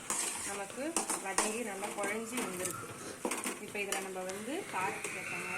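Onion and tomato frying in a pan with salt and turmeric, a steady sizzle under repeated stirring and scraping of a utensil against the pan, with a voice speaking over it throughout.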